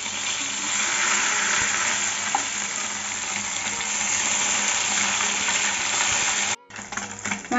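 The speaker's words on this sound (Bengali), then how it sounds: "মাছগুলি বেশি কড়া করে ভাজবো না, হালকা করে ভেজে নেব।" Kajli fish pieces fry lightly in hot oil in a pan with a loud, continuous sizzle and faint stirring clicks. The sizzle cuts out briefly near the end.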